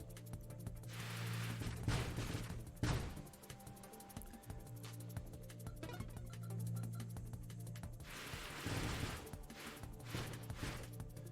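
A missile salvo firing in the space shooter Nova Drift, heard as clustered bursts of rapid, crackling shots over a steady hum of game music, with louder volleys at intervals.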